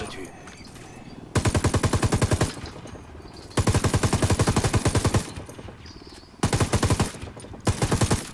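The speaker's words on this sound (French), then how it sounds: "on va devoir ouvrir le feu" Bursts of rapid automatic gunfire from a firefight in Ghost Recon Wildlands, three long loud volleys separated by short pauses, with a fourth burst cut short at the end, over faint background game sound.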